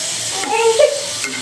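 French fries frying in oil, giving a close, fairly loud sizzle with a brief bubbling swell partway through.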